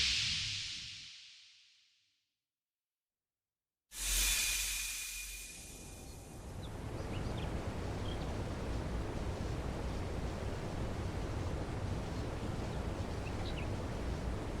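A rushing waterfall in the video game Trails through Daybreak 2 swells in as a loud, steady broadband roar after a brief fade and a silent gap, with no talk.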